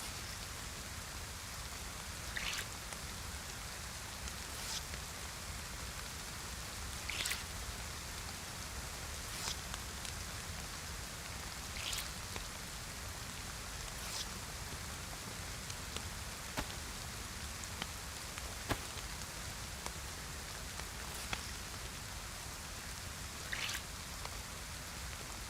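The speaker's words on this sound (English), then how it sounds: "It's raining here like it's fucking Livonia." Rain falls steadily for a long stretch, an even hissing wash with scattered sharper drip ticks and occasional faint rustles, fairly quiet and unbroken by any voices.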